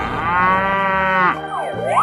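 Cartoon cow giving a loud, drawn-out moo lasting about a second, followed by shorter bending animated sound effects, alone with no talk.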